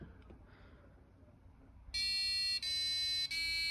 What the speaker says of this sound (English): you can hear the alarm with the frequencies at each beat